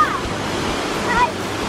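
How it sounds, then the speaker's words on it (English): A waterfall on the Ingleton Waterfall Trail in the Yorkshire Dales roars steadily nearby, a broad continuous wash with faint wind noise over the microphone. "First waterfall."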